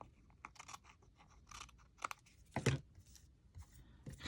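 Scissors trimming paper in a craft project, giving quiet close snips and crisp cuts in an uneven series, with one louder crunching cut partway through.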